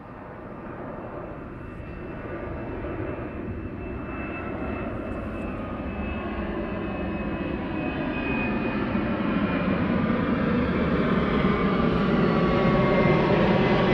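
An aircraft takes off at night at East Midlands Airport, its engines a broad steady roar that swells gradually louder over fourteen seconds, with a faint high whine above.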